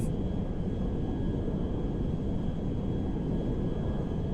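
An Air Force One jet in the video game GTA 5 flies with a steady, even engine drone from inside the aircraft, a smooth continuous hum with a faint high whine and no talking.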